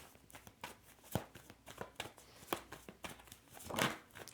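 Tarot cards being shuffled by hand, a run of soft papery riffles and flicks with a few sharper snaps, close and quiet with no talking.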